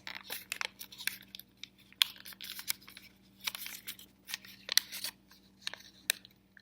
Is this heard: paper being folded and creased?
yes